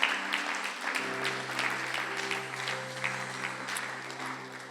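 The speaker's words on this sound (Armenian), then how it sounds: "Եկեք մեր փառաբանությանը մի հատ ծափարենք։" An audience at a church worship service claps in a continuous burst of applause, close and lively, over a sustained keyboard chord with no talking.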